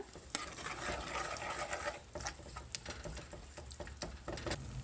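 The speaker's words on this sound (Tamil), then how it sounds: "ஒரு குழிக்கரண்டி வச்சு ஜஸ்ட் லைட்டாக மட்டும் மேஷ் பண்ணிக்கோங்க." Cooked red lentils are mashed lightly with a ladle for a masoor dal curry. The soft, wet stirring and patting continues at low volume, with small irregular taps throughout.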